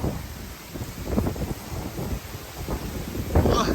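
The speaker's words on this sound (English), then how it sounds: "80-mile-per-hour gust right there" Strong gusts in a night windstorm buffet the microphone in irregular surges of low rumbling roar, swelling and fading, with a sharper burst near the end and a faint voice.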